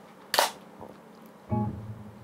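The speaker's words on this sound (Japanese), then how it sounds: "それでシャッターがその動いてるんだけどね" A camera shutter gives one sharp, close click, followed a second later by a duller sliding mechanical clunk, short and isolated in a quiet room.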